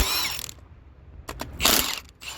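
A ratchet clicks in quick bursts while a socket backs studs out of a 12-valve Cummins engine during teardown, close and moderately loud, with quieter gaps between strokes.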